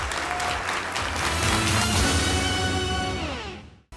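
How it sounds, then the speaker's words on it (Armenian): Loud, sustained audience applause at a Got Talent Armenia quarter-final sends off a contestant. The clapping swells under musical tones, then fades out at the end. "եկեք բարձր ծափարություններով ճանապարհենք Ռոզա Սաֆարյանին։"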